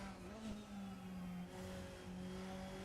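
McLaren DTM race car engine in the Raceroom sim racing game, a steady droning note holding pitch with slight rises and dips, continuous and fairly close throughout without talk.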